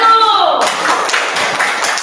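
Students in a classroom clap for a group, a loud, dense burst of many hands that starts with a ringing tone and then settles into steady applause lasting about two seconds, with voices mixed in.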